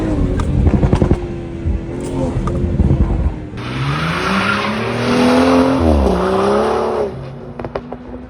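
BMW 440 fitted with a Valvetronic exhaust, driving with a loud revving exhaust note that rises and falls, sharp crackles at the start and end, and a tire squeal in the middle.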